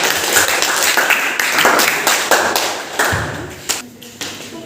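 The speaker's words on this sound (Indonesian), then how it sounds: "kita beri aplaus untuk kelompok" Classroom audience applauding a presenting group during a teaching practice session, irregular claps and thumps close by, bursting in uneven waves and tapering off toward the end.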